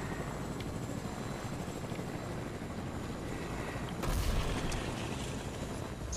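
A helicopter in the video game Fortnite whirs steadily as a dense, continuous rotor-and-engine drone under wind-like noise, with a brief louder swell partway through.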